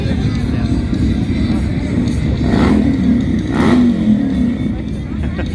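A Harley Sportster S motorcycle revs in the lane at an outdoor drag race, a loud steady engine drone with a couple of brief throttle swells amid crowd babble.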